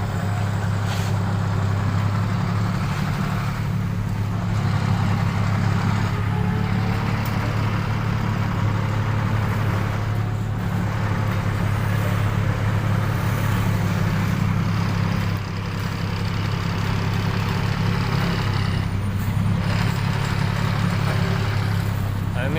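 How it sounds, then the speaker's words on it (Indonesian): Heavy, steady traffic on a busy road being resurfaced with hotmix asphalt, with cars and trucks passing nonstop in a constant loud engine rumble and no pause. "Gak berhenti, mobil-mobil gak berhenti teman-teman."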